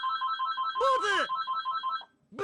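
Telephone ringing in the visual novel game Never7, a repeating electronic ring in short regular bursts, briefly interrupted midway by a louder voice, then continuing steadily before stopping.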